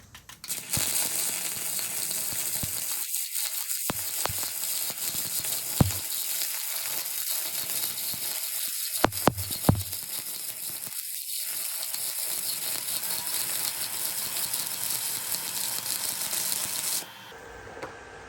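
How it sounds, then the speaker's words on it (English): Arc welding a pass with a RILON Arc 160GS stick welder produces a steady, continuous crackling hiss lasting most of the time, close and fairly loud, with a few sharp pops, stopping abruptly near the end. "I'm gonna weld another pass and try a different technique here."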